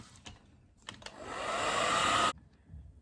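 A hair dryer dries decoupage napkin glue on a glass plate. It roars up for about a second and a half, then cuts off abruptly, after a few faint taps beforehand.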